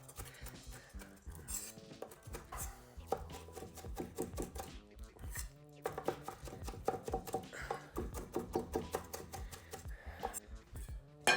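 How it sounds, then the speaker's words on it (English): A knife chops garlic and habanero on a board in quick, steady taps, close and continuous, each stroke a crisp knock with little pause between. "Just making sure I get the garlic chopped up so it can evenly spread its garlicky goodness throughout this whole thing."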